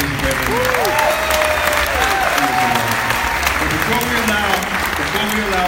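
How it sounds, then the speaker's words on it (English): A gathered crowd applauds loudly and continuously for event participants, dense clapping under a murmur of voices and a few calls from the room. "If you can, just give a round of applause for everybody that participated."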